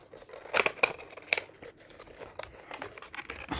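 Scissors snip through plastic packaging on a WD My Passport 5TB hard drive, giving a few sharp close cuts and crinkles early on, followed by softer rustling and crackling of the plastic.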